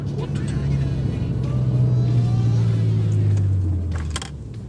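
A BMW M6 driven hard, its engine revving loud and close with a steadily climbing pitch through a single pull that eases off near the end.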